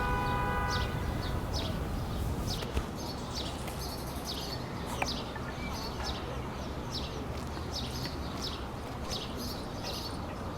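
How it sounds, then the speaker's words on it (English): Morning city ambience: steady traffic hum with a faint distant siren-like tone, while several birds chirp repeatedly in short, bright calls over it, fairly far off and moderately quiet. "the sound of the bustling city in the morning, a call and response of cars and birds"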